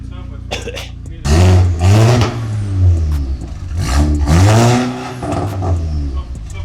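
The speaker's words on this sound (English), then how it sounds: "You can hear the turbo." A car fitted with a Milltek race exhaust revs hard, its engine rising and falling in two loud surges with turbo whoosh, heard up close.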